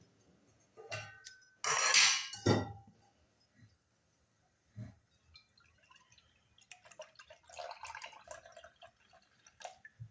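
Water and milk are poured from a bowl into a kadhai, with bursts of splashing pour, a few clinks of the vessel and soft drips between quieter pauses.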